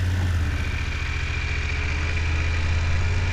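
A motorcycle idles steadily with its clutch set during a slow-speed U-turn drill, a low continuous engine drone, close and loud with no talking.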